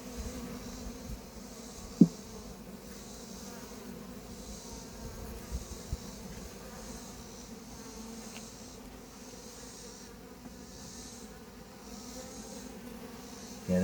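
Bees hum steadily in a failing hive whose queen appears dead, a constant low buzzing swarm close by with a few faint bumps and no talk.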